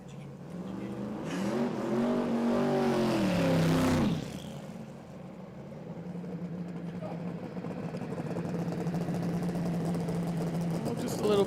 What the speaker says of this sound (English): Just a little bit of a tyre spin on the burnout, not too much.